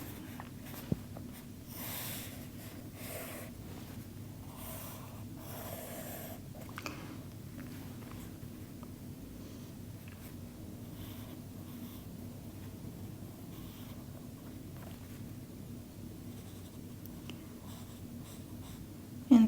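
Quiet, faint scratchy strokes of a Neocolor II crayon sketching on paper, intermittent short marks over a soft background hiss, with no talk.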